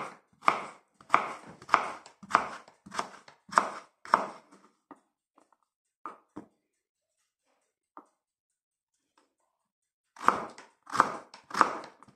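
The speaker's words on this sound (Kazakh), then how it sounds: "Салмасына қабығынан тазалап алынған картопты ұсақтап 4 бұрышты қылып тураймыз." A knife dices peeled potatoes into small cubes for a meatless manti filling, giving a quick run of crisp, rhythmic chops on a board, then a pause with a few scattered taps before another close burst of steady chopping.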